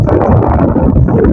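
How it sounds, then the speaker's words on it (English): Steady low rumbling wind buffets the microphone throughout at a lakeside campsite, a continuous gusty roar with no voices. "it's a bit windy here"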